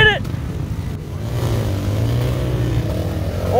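A KTM 890 dirt bike at the Odessa Desert 100 race, its engine droning and revving in a rising, wavering pitch as it passes, mid-distance, with a brief shout at the start.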